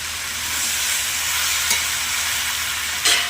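Potato, papaya and tomato fry in a pan with a steady, fairly loud sizzle and hiss, broken by two brief scraping stirs near the end.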